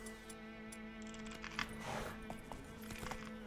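Hooves of Roach, the horse in The Witcher 3, clip-clop in a quick gallop under game music, with soft rhythmic thuds moderately close and fairly quiet.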